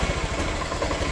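A motorcycle engine sputters unevenly while revved, a close, loud, rough burst of engine noise that lasts only a moment.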